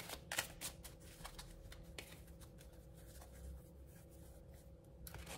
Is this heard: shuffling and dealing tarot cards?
yes